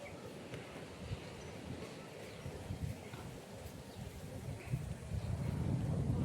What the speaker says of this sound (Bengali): কি সুন্দর হাওয়া দিচ্ছে